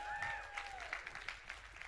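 A church audience claps and cheers for Hard Hat Vinny, scattered applause at moderate distance under a sliding whistle-like tone at the start.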